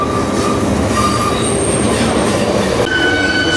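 A freight train rolls steadily through a rail yard, its wheels giving off thin, sustained metallic squeals over a continuous, loud rumble of cars on track.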